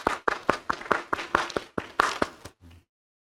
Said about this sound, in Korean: 하나님께 영광의 박수 한번 올려드리도록 하겠습니다